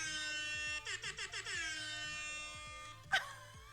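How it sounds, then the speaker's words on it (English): An air horn from the Maze of Games video game blares as a long sustained tone, broken partway through by a quick run of four or five stuttering blasts. A sharp burst of noise follows near the end. "the game came with air horn noises!"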